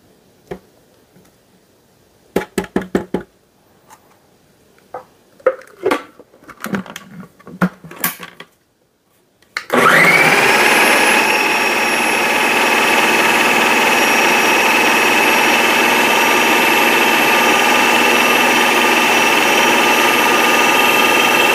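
A kitchen blender runs continuously for about twelve seconds, loud and steady, after scattered clicks and clatters of setting it up.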